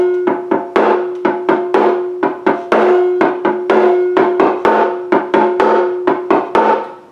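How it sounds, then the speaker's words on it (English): A drum is played in a repeated ostinato, the same short rhythmic pattern of resonant, pitched strikes looping steadily at close range and full volume. "if I was going to do an ostinato on this drum, it might sound like this."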